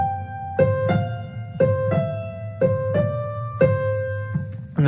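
Solo piano passage practiced in an uneven long-short rhythm, notes struck in clear paired groupings with sustained ringing tones, close and moderately loud with no talking.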